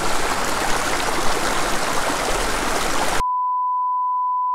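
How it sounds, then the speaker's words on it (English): Water flowing steadily in a scenic creek, a broad continuous rush heard up close for about three seconds before cutting to silence and a steady electronic tone. "Cool creek,"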